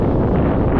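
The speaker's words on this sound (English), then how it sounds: "That wind." Strong wind blows across the microphone outdoors in deep snow, a continuous loud, low rumbling buffet throughout.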